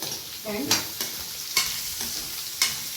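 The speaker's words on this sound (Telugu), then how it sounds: "సేమ్ మళ్ళీ సెకండ్ టైం కూడా ఇలానే క్రిస్పీగా నేను ఫ్రై చేసుకుంటున్నాను" Bitter gourd frying until crispy in a pan, a steady hiss of oil with sharp clinks of a spatula stirring about three times, close and alone.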